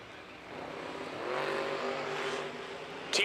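Drag race cars at a launch, one of them an Oldsmobile, their engine noise swelling and holding steady with a sharp burst at the very end, heard from the stands at a drag strip.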